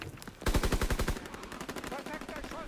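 Rapid bursts of automatic gunfire from a World War II shooter game, Call of Duty WWII, loud and close with a steady rattling rhythm of shots over about a second, then continuing more irregular weapon noise and game sounds.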